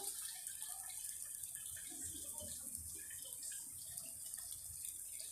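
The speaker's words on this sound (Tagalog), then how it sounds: "Nandito ako nagsasahod po ako ng tubig para po sa pandagdag na sabaw." Faint water runs from a tap into a container, a soft steady hiss with light splashing throughout.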